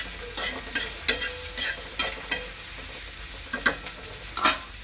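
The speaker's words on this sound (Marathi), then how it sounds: "कढीपत्ता, कांदा चांगला ब्राऊन होईपर्यंत परतून घ्यायचा आहे" Curry leaves and onion sautéing in a pan make a steady low sizzle beneath repeated scraping stirs of a spoon, each stroke a short, close scrape at an uneven rhythm, with no talking.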